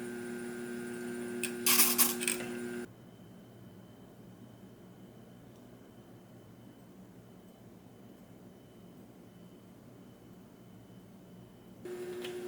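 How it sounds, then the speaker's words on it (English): Gem faceting machine grinding facets on a 600 grit cutting lap, a steady low motor hum with faint grinding, opening with a brief burst of louder, brighter scraping noise before settling into the even drone. "I use a 600 grit cutting lap to grind in each of the facets."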